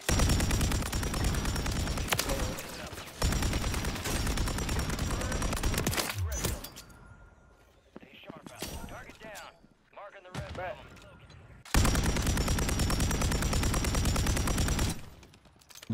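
Call of Duty gunfire on Rebirth Island, loud sustained automatic bursts coming from several directions, breaking off into quieter gaps with scattered shots before another long close burst, with a player talking.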